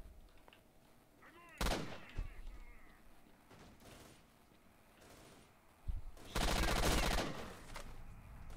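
Gunfire in the video game S.T.A.L.K.E.R.: Shadow of Chernobyl, with loud bursts of shots around two seconds and a longer heavy volley near the end, separated by quieter ambient game sound and no talking.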